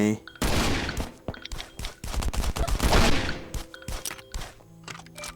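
Rapid bursts of gunfire in the mobile survival game Last Island of Survival, dense volleys of shots and thuds running through most of the clip with some talk mixed in.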